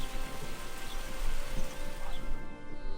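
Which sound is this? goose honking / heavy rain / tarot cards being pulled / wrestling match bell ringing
heavy rain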